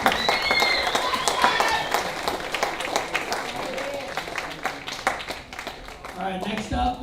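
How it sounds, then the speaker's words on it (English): An audience at a school achievement day gives a round of applause for the girls basketball program. The clapping is loud at first, then thins into scattered claps, with voices talking over it. "one more round of applause for the girls basketball program"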